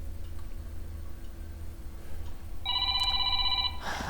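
A telephone rings in a video game, a bright electronic trill starting partway through and holding for about a second over a low steady hum and faint background ticking.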